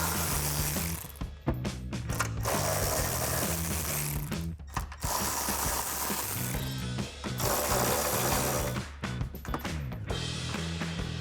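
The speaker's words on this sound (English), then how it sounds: "So I have my ratchet and a 13mm swivel socket," A hand ratchet fitted with a 13mm swivel socket backs out bolts on a 2021-2024 Ford Bronco tailgate, giving steady rapid pawl clicking in long bursts with short pauses between strokes, close and clear.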